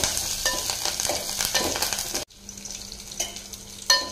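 Onions sautéing for banana flower sambar with curry leaves, a dense sizzle broken by scraping stirring strokes, briefly cutting out midway before the frying hiss resumes more quietly with a final clatter.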